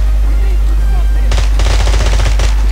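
Automatic gunfire in the James Bond Blood Stone video game erupts after a short lull, a loud, close burst of rapid shots with a brief pause before a final volley.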